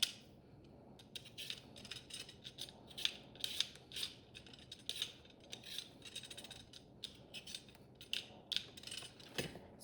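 A vegetable peeler scrapes a raw potato in quick, rhythmic strokes, a steady run of crisp rasping passes close by with brief pauses between bursts, and no talking.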